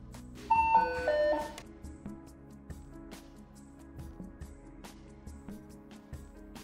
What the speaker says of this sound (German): Darauf ertönen noch einmal drei Töne.